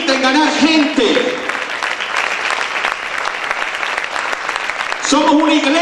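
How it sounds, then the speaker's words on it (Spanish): A church congregation applauds loudly and steadily, a dense wash of clapping that fills the space, with a sung or spoken voice over it at the start and end. "Aplaude fuerte al Señor en el nombre de Jesús."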